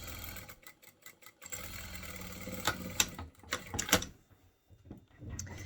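Short bursts of rapid mechanical whirring and clatter come from a sewing machine backstitching a seam on binding fabric, starting and stopping in close, moderately loud runs with quiet gaps between them.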